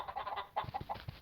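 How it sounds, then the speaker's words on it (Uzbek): Chickens in the Minecraft video game, giving a quick run of soft, short clucks close together in one brief faint burst. "Tovuqlar."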